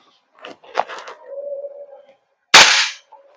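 A G&G MGCR556 10-inch airsoft gas blowback rifle fires a single loud, sharp crack near the end, after a stretch of softer handling and mechanical sounds.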